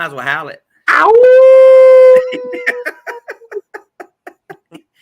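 A man on a sports talk show lets out a long, loud imitation wolf howl with his voice, a sustained rising tone that then breaks into a series of short, rhythmic laughing yelps and fades out.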